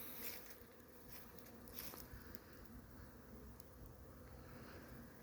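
Honey bees fly around the entrances of their hives on a mild autumn day, making a quiet, steady buzz with occasional louder passes close by.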